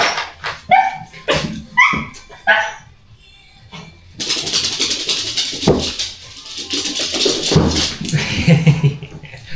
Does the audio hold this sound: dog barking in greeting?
yes